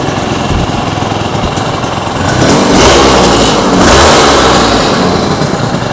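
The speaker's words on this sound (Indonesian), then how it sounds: "Suaranya khas motor 2 tak." Aprilia RS250 two-stroke 250cc motorcycle engine, kick-started and running, revving up in loud sustained bursts with a raspy buzz over a steady idle, close by with no talking.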